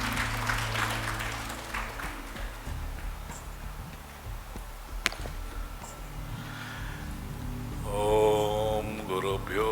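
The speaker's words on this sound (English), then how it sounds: "Let's have a huge round of applause, ladies and gentlemen." Applause from the audience at a commemorative coin release event, a broad, steady wash of many clapping hands under a low hum, with a brief tonal sound near the end.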